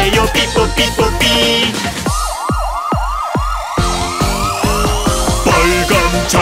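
An ambulance siren wails in rising and falling sweeps, repeating about a dozen times, over the bouncy backing music of an animated children's car song.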